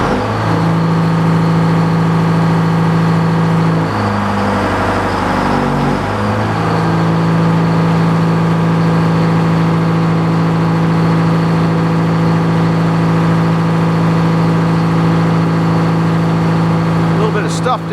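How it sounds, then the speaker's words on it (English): A sawmill engine runs steadily and loudly at close range with a constant hum that dips and recovers midway, as if briefly loaded or throttled, before settling back, during oak log milling. "Oh, I got to start the engine."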